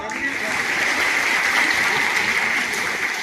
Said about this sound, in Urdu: زوردار تالی بجاؤ